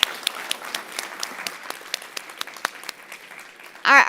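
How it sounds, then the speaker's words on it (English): An indoor audience applauds a panel at a healthy-food access forum, a dense patter of many hands clapping steadily at moderate distance, thinning toward the end before a brief louder burst of sound cuts in. "Bigger round of applause for that powerful panel of amazing women."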